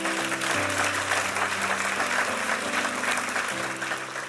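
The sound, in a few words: congregation applause in church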